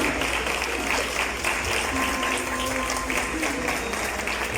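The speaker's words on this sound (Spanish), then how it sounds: "Despidámonos con un fuerte aplauso." Audience giving a strong farewell round of applause at an artisan fashion runway event, continuous broadband clapping with a faint tone and murmuring crowd beneath.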